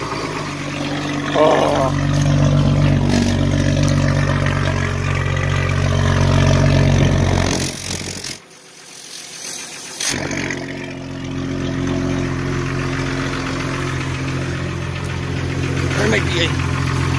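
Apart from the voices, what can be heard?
Jeep ZJ engine starting and idling with new muffler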